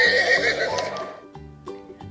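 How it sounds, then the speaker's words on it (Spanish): A horse lets out one loud, close neigh that fades within a second, followed by quieter snorting sounds. "Nos está llamando el caballo."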